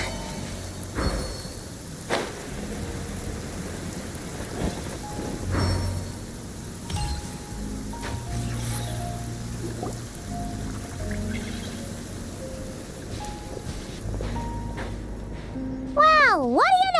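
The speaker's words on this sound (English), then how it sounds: "listening to the rain cleanse the earth makes me feel safe." Rain falls in the game Genshin Impact, a continuous patter with scattered drip and impact sounds under background music and game effects, with a short tonal swell at the end.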